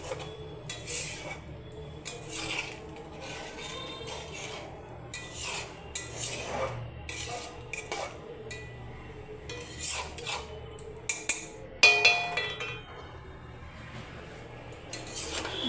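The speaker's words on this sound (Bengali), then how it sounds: "পোস্তটা যে বেটে গুলে রেখেছি এটা আস্তে আস্তে দিয়ে দেবো মিশ্রণটা। দিয়ে নেড়ে নেবো।" A spoon stirs ground poppy seed paste into a cooking pot, scraping and clinking against the metal in uneven bursts, close by and moderately loud.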